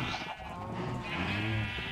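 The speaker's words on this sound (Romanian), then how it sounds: "Pac, și avem o oaie verde." A Minecraft sheep gives a wavering, fairly loud bleat over a busy background of other game sounds.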